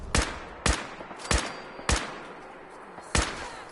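Single gunshots ring out in a battle on a highway rooftop area in the video game Fallout 4, five loud sharp cracks spaced irregularly about half a second to a second apart, each trailing into a short echo.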